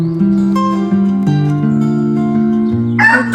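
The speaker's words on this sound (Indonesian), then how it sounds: "Ada ayam teman-teman ya," A rooster crows loudly and close by in a vegetable garden plot, one long drawn-out call with a sustained harmonic tone, ending in a brief rough burst.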